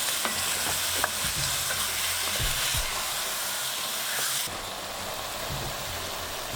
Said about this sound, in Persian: مرغمون که خوب تفت خورد در قابلمه رو میذاریم